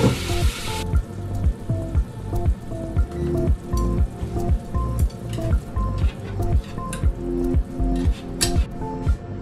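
Sake, mirin and soy sauce hitting a hot pan sizzle loudly and steadily, a close crackling hiss with a rhythmic pulsing pattern as the sauce bubbles and cooks.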